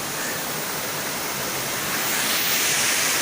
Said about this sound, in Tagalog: Ang Salvosa Falls